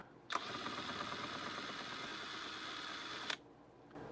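A Hyper Tough impact wrench runs at low speed, a steady whirring drone that starts abruptly, holds for about three seconds close by and then cuts off, with no talk.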